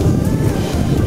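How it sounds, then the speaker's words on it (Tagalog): Strong wind blows at sea aboard a fishing boat on an open-water trip for giant trevally. It is a dense, low, buffeting roar against the microphone that carries on without a break through the short moment. "So currently guys, malakas na yung hangin."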